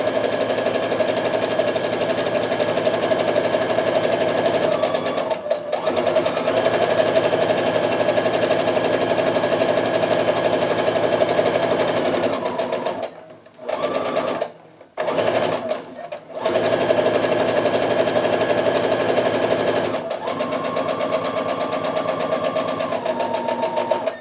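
A sewing machine stitches a quilt seam for half square triangles in long, loud, continuous runs, pausing briefly twice near the middle before resuming its steady whirring hum.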